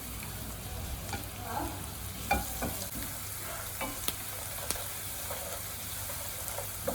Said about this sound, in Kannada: ಇನ್ನೇನು ಈರುಳ್ಳಿ ಬೇಯ್ತಾ ಇದೆ